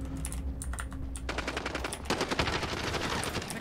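Rapid bursts of automatic gunfire from the online shooter game Call of Duty, a steady crackling rattle that grows denser and louder partway through, with a faint background hum under the shots.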